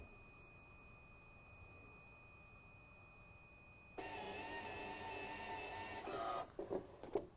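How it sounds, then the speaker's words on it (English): A CoLibri book-covering machine runs with a steady mechanical hum as its welding bar seals and cuts plastic film around a book, ending in a short run of sharper clicks and clunks. "If I were to put it under the welding bar and try and cut it"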